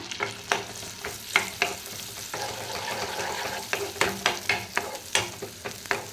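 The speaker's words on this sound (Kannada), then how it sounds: "ಚೆನ್ನಾಗಿ ಫ್ರೈ ಆಗಲಿ ಈರುಳ್ಳಿ" Small chopped onion fries in butter in a pan for a pepper chicken dish: a continuous close sizzle punctuated by frequent rhythmic spatula scrapes and taps against the pan.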